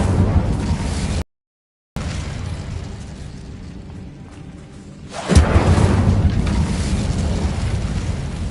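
In Hogwarts Legacy, inside an abandoned mine, an Incendio fire spell bursts out as a loud whooshing blast of flame. It swells into a broad roaring rush that fills the foreground after a quieter stretch.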